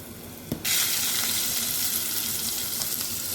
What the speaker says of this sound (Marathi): थोडंसं याला परतून घेऊया